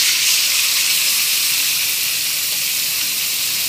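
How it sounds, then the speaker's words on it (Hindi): Chicken sizzling in hot oil in a kadai, a steady, loud, dense hiss of frying that holds without a break from start to finish, close up and with no voices. "कढ़ाई में ऑयल डालकर उसको गर्म करें. अब इसमें चिकन डाल दें."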